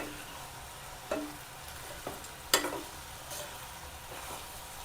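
A spoon stirs coconut rice in a pan with a few distinct scraping clinks over a faint, steady sizzle, quiet and close.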